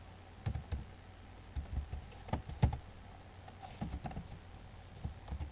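XSLT code typed on a computer keyboard, irregular bursts of close, soft key clicks with brief pauses between clusters, no talking.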